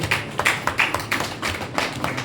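An audience applauding Dr. Sarabjit Kaur Brar, with sharp, fairly close claps landing in a quick, uneven rhythm over a couple of seconds, alone with no talk.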